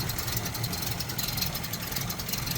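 A 1936 Rolls-Royce 20/25 engine idles quietly and evenly, a soft, steady mechanical murmur with light ticking heard up close and no speech.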